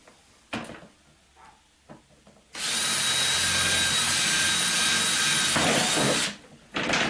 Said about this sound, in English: drill a hole in the side at the same height as where the interface goes that's holding up the growing medium